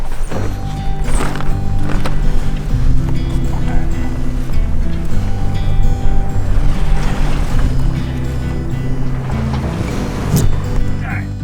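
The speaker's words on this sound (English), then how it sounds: "With our sails down, it was time to motor into our next destination, Marina Puerto Del Rey." A sailboat motoring with its sails down toward a marina near Puerto Rico: a steady, loud engine drone mixed with water wash and wind runs throughout, with occasional knocks and faint voices.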